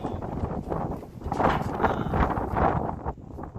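Wind gusts buffet a tarp outdoors during tarping work, producing a steady rushing, flapping roar with swells in loudness, close to the microphone and with no talk.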